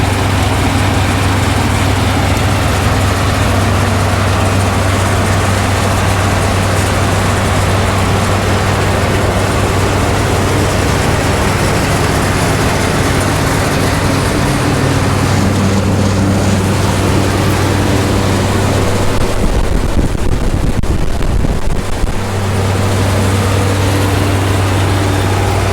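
An Oxbow BH100 green bean harvesting machine running at 1800 RPM makes a loud, steady low engine drone with a brief change around two-thirds of the way through.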